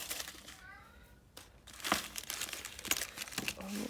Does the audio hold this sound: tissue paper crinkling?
yes